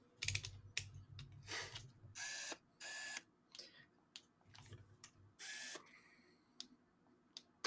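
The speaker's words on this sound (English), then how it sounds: "Those little tiny shutter noises are fucking hilarious" A handheld camera's shutter clicks repeatedly, close and crisp, in quick irregular bursts separated by short silences, with some mechanical whirring between clicks.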